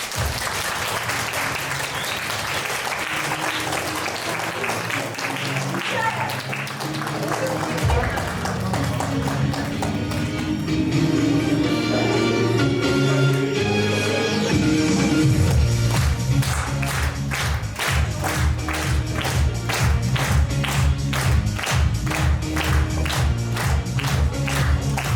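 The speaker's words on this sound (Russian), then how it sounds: "под ваши аплодисменты выпускники 2024 года в сопровождении классного руководителя" An audience applauds as 2024 graduates enter with their class teacher at a last-bell school ceremony; loud continuous clapping runs throughout, with music rising underneath midway and rhythmic clapping later.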